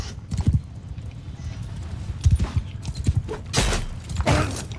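Horse hooves clip-clop in a loose rhythm during Mount and Blade II: Bannerlord, mixed with battle noise and scattered thumps, moderately loud.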